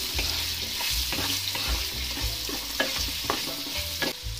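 Red pumpkin pieces fry in a pan with green chillies, cumin and mustard seeds, stirred with steady scrapes over a constant close sizzle; no voices.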